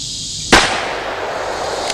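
A single sharp gunshot cracks out near the start, followed by a short fading echo and quiet outdoor background.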